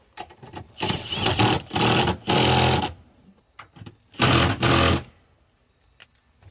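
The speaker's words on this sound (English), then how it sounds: "Then crank them down with your wrench" A ratchet wrench cranks down the battery terminal bolts on a Dodge Durango, producing several short bursts of rapid clicking with brief pauses between them, close and fairly loud.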